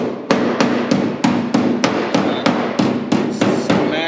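Steel quarter panel on a 1965 Chevrolet Impala struck with a hammer, a dozen sharp metallic blows at an even, steady rhythm, loud and close with a ringing tail after each hit.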